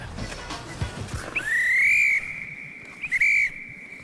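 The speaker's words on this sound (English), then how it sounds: "I've got the whistle." A referee's whistle at an NHL hockey game between the Flyers and Islanders gives a long shrill blast, followed by a shorter trill about a second later, after some muffled background noise.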